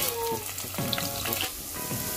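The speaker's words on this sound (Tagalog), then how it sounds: "I just put the cooking oil and we will saute the pork belly" Pork belly sautéing in cooking oil, a loud continuous sizzle with bursts of spitting and crackling as the pieces are stirred in the pan.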